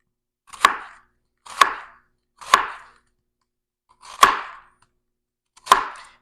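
Five sharp knife strokes cut through steak on a cutting board for street tacos, each a crisp, close chop with a short tail, spaced unevenly with brief pauses between and no talk.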